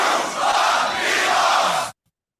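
A large crowd at a Grand Beatbox Battle loopstation results announcement shouts together loudly for about two seconds, a dense sustained roar of voices that cuts off abruptly into silence.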